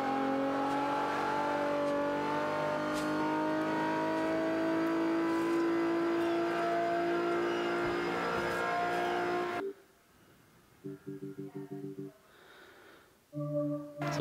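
A rear-wheel-drive KTM X-Bow race car screams through an A Class race in Forza Motorsport 5, its engine holding a loud, sustained high-revving roar before cutting off to short electronic menu beeps.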